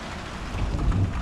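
Steady rain falls in cold weather in Australia, a dense, even hiss of drops with a low rumble building slightly toward the end, and no voices.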